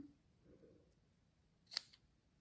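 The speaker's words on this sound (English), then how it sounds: "And give it a little trim." Scissors make a single quick snip trimming the end of a tied ribbon bow on a handmade Christmas card, a brief sharp cut in an otherwise quiet room.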